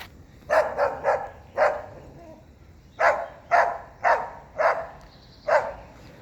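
A puppy on a residential street of ranch-style homes barks in a quick series of sharp yips, a few close together then evenly spaced, fairly near and alone.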